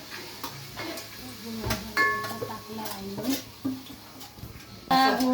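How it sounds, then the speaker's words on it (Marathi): Melting jaggery for sesame ladoos is stirred in a pan, with soft scraping and clinks of a utensil against the pan at uneven intervals, fairly quiet and close, with a few light knocks. "असं असं ढवळत राहा हळूहळू हळू सगळीकडनं ढवळणं"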